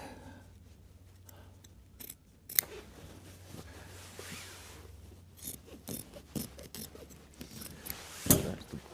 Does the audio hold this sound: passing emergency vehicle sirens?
no